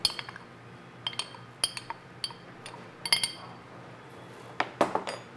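Egg, flour and buttermilk whisked into a batter in a bowl, heard as sharp, close clinks of utensil against the bowl in short irregular bursts, with quiet background noise between.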